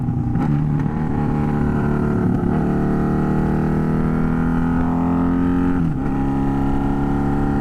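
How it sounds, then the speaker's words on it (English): A loud Honda Magna motorcycle engine revving steadily up close, its deep growl rising and dipping, with a couple of sharp throttle blips along the way. "There's nothing that beats the sound of this bike."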